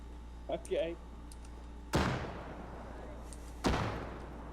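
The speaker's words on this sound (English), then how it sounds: "I'm gonna throw a frag." Two frag grenades explode in quick succession, each a sharp, heavy boom trailing into a rumbling decay, after a brief voice at the start.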